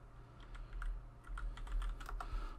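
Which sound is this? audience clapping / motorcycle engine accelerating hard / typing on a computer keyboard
typing on a computer keyboard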